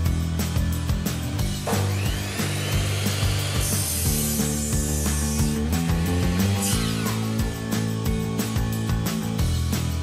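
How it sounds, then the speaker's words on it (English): A circular or miter saw cuts the angled end of a 2x4 wooden cross brace for a garden gate, a loud whining rip of a few seconds that rises over steady background music, which continues after the cut. "use a circular or miter saw to cut the ends of the cross brace."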